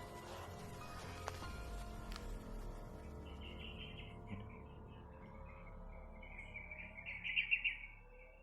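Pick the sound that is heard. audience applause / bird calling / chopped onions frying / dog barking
bird calling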